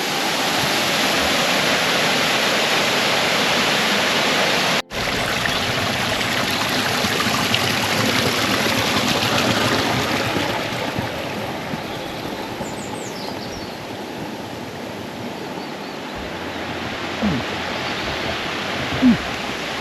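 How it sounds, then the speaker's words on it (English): A small waterfall in woodland in South Wales rushes in a steady, full-band roar that runs continuously and close, with a brief dropout early on and no talking. "What a nice, quaint, small little waterfall just rambling in the woods."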